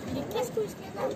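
Dogs near a camper van give short yips and whimpering barks, a few quick bursts at close range, with people talking over them.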